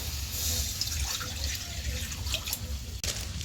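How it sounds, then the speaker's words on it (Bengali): A bowl of water is poured into a wok, giving a close, steady watery splash and trickle with a brief clack near the end, and no talk. "এই কড়াইতে দিয়ে দেবো 1 বাটি জল।"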